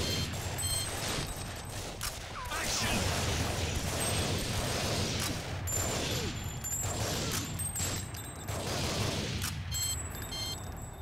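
Light-gun gunfire from Time Crisis II on a PS2 emulator, a steady barrage of shots and game effects running densely for the whole stretch, with a player's voice faintly underneath.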